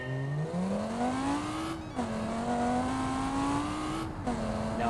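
A Lamborghini Gallardo on sport tires, all-wheel drive, drives through floodwater in the driving game BeamNG. Its engine holds a loud, steady drone that climbs through the revs, with two brief gear-shift dips. No one talks.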